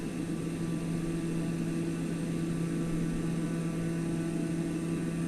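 A Daher TBM 930 turboprop engine in Microsoft Flight Simulator drones steadily and evenly throughout, a constant humming cabin roar with no talking.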